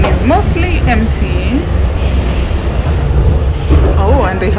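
Inside a moving, mostly empty train in Hamburg, a steady low rumble and rattle of the carriage runs throughout while a person talks over it.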